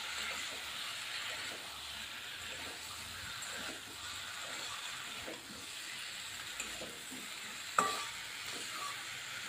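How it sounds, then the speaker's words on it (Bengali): Cut vegetables sizzling in hot spiced oil in a pan for a rohu fish curry, a steady soft hiss with occasional stirring scrapes and a light clink, close and moderately quiet with no talking. "এখন আমি এর মধ্যে কেটে রাখা ফলগুলো দিয়ে দিব।"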